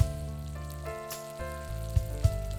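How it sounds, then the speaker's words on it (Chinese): Shallots frying slowly in pork lard over low heat, a steady soft sizzle with occasional light pops, close and continuous, under a droning background hum. "小火慢慢煸干红葱头"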